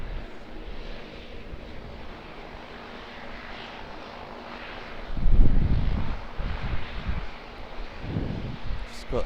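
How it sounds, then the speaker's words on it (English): Q300 turboprop taxiing in at Auckland Airport, its engine drone heard nearby over wind buffeting on the microphone, with heavier gusts partway through. "Just got the Q300 in front of me, taxiing in."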